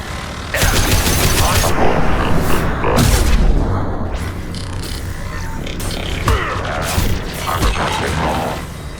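Sci-fi combat in Mass Effect 2, with loud bursts of rapid gunfire and heavy impact booms stacked close together, dense and continuous across the clip, with voices faintly under the battle.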